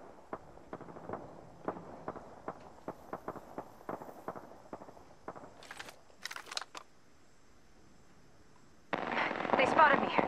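Rapid single gunshots ring out in Apex Legends in a steady string, followed by short bursts of sharper fire, then a sudden loud rushing noise near the end, with no voices.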